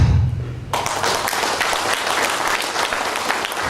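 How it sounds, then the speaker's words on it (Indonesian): Loud applause from a crowd at a Partai Demokrat party consolidation gathering in Bengkulu, a steady dense clatter of many hands that breaks in abruptly after a brief low rumble and carries on without letting up. "Setelah itu tepuk tangan."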